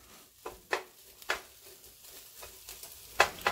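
Spam fried rice cooks in a hot pan over raised heat, giving a faint sizzle broken by several sharp scrapes and clacks of a utensil stirring the rice.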